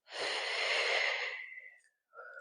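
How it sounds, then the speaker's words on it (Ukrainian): A slow, audible breath out, soft and close, followed by a brief quieter breath after a pause during a calming exercise. "Робимо вдих, видих,"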